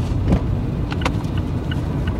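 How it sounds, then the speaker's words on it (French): A car pulls in to park behind a Peugeot along a dirt road near Poitiers, its engine running steadily and close, with a few faint clicks over the low rumble. "Je vais me garer derrière la Peugeot."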